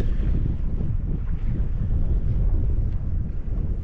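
Wind blows across a lake during kayak fishing, a dense, continuous low rumble of microphone buffeting with water wash underneath, loud and steady without any voices.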